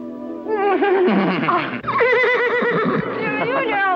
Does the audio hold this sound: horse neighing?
yes